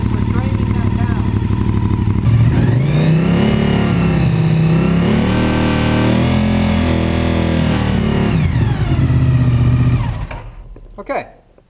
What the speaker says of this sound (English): We'll fire up the bike. Notice how it's getting hard to start?